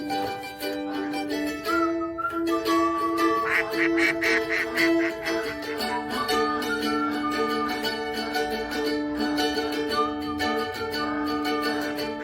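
Domestic ducks quack steadily for about twelve seconds in a repeated, nasal chorus, fairly close and at moderate volume. A background tone runs underneath throughout, and no one talks.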